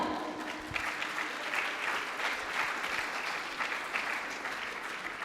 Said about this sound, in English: A big clap for Polytechnic Ibrahim Sultan